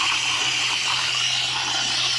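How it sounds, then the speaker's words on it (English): Water sprays steadily onto air conditioner condenser coils, a continuous rushing hiss that stays close and even throughout, with no voices. "I like to give my coils a good thorough rinse down."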